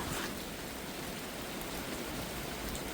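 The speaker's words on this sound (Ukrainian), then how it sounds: "Ну, може відпустить цей дощик." Light rain falls steadily in a yard with trees in Ukraine, a continuous close hiss of drops on surfaces with no break or voice.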